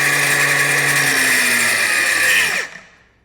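A Milwaukee M18 Fuel 3672 cordless angle grinder spinning at full speed on its fourth mode, a loud steady high-pitched whine that holds for about two and a half seconds and then winds down and fades as the disc coasts to a stop.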